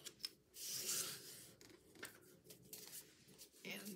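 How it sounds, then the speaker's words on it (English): Scissors snip through an index card in a few short, crisp cuts with soft paper rustling between them, close and quiet, with a voice speaking faintly in the background. "I'm gonna come in and just do a cut like that."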